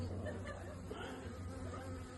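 Honey bees hum at an open hive frame while a new queen is introduced with worker bees from another colony, a steady, close, low drone filling the whole moment with no other sound.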